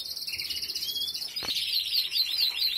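A small pet bird, a female kept in a cage, chirps and tweets during a nail trim, giving rapid high twittering calls close by with a brief sharp chirp in the middle and no voices.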